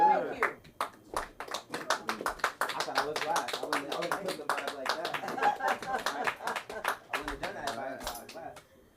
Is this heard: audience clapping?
yes